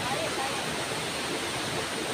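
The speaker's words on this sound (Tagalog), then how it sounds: "nandito kami sa Chukungtam Falls guys" Chukungtam Falls pours in a dense, steady wash of falling water, loud and continuous, with a voice faintly under the roar.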